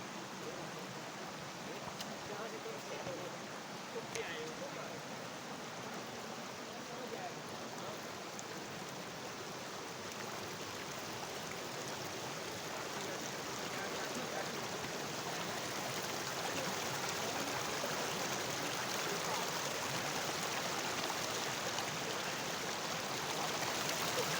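Steady rushing of a stream flowing over rocks, a continuous broadband wash that swells slightly louder toward the end, with no voices.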